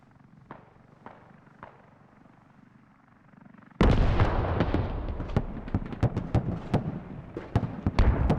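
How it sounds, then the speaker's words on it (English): Artillery strike in a military shooter on the Yehorivka map lands as a sudden loud barrage, with sharp repeated blasts and rumbling after a quieter stretch of distant isolated thuds. "Artillery strike."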